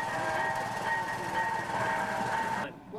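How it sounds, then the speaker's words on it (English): A westbound train running in two sections pulls out toward Springerville near Zuni, a steady rail rumble carrying a sustained tonal drone that cuts off abruptly near the end. "Westbound train, two sections, leaving for Springerville."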